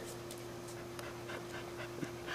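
A high-energy rescue bully breed dog pants close by in quick, steady breaths, with a few soft vocal bits over a constant low hum.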